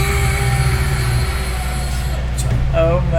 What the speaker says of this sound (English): Holy shit! This is a fucking fast train, man. How fast does this train go?